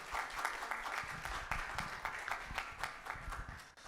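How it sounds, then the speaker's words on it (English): Audience applause for three men on stage at a renewable energy workshop, a steady, moderately loud wash of clapping with no break, running for a few seconds. "can we give a round of applause to our three gentlemen on stage?"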